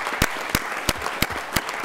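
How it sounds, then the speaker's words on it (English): A few people at a board meeting give a slow round of applause, with six or so sharp, evenly spaced claps standing out clearly over a quiet room. "I'd like to just give them a round of applause"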